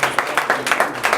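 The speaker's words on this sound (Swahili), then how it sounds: "Mnaweza kumpigia makofi, atakuja tu." An audience at a church gathering in Kirigiti, Kiambu County applauds a guest, a brief burst of dense, rhythmic hand clapping, close and fairly loud, with no talking over it.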